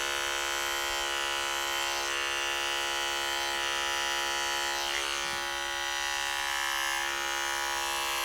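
Electric hair clippers buzz steadily and close, run over a comb to cut straight hair in a fading and blending cut, with a constant motor whine and only faint changes as the blade moves.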